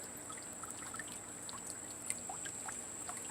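Water trickles and splashes steadily in a garden fountain outdoors, a soft continuous pour with small droplet spatters, close and moderately quiet.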